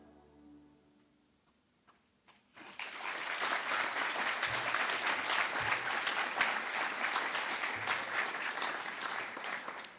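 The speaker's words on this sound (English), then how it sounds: "I think that deserved a round of applause." Applause at the Youth Work Excellence Awards 2023 breaks out after a quiet start and swells into sustained, dense clapping from a large audience that continues steadily to the end.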